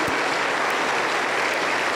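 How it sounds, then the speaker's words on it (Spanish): Church congregation applauding in praise during a worship service, a dense steady wash of clapping throughout with no voices standing out. "Aplauso para el Señor Jesús."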